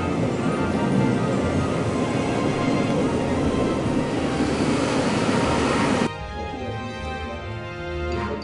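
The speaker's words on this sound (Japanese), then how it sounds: "ここだけちょっと JR に乗りましょう。" Riding a JR commuter train through Sapporo gives a steady rumbling roar from inside the carriage, which drops to a quieter, lower hum about two-thirds of the way through.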